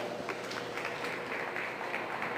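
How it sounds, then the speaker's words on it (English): Audience applause at a 2022 beef breeding show after a champion Limousin is announced, a faint, steady patter of many hands from across an arena. "Let's give him a round of applause."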